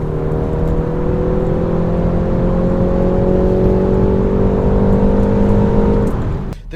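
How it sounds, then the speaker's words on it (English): A 2019 BMW 330i in sport mode gives a loud, steady exhaust drone with strong low harmonics, holding a sustained cruise note that climbs slightly in pitch before easing off at the end. "The exhaust note that you get when you've put the car into sport mode is fantastic."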